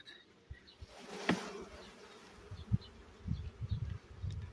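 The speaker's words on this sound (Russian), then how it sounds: "надо еще сюда струсить пчел. С 3 рамок струшиваем." Honey bees buzzing as they are shaken off several hive frames during colony splitting, a low droning swarm hum with irregular louder surges, fairly close and with no voices.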